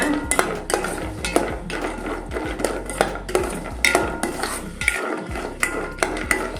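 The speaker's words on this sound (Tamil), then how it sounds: "எண்ணெய் சூடாயிடுச்சு. பாதாம் போடுவோம். நல்லா ஃப்ரை பண்ணிக்கோங்க." Almonds fried in hot oil are stirred briskly in a pan, a rapid run of metallic scrapes and clanks in a steady rhythm, close and fairly loud, with only a soft sizzle underneath.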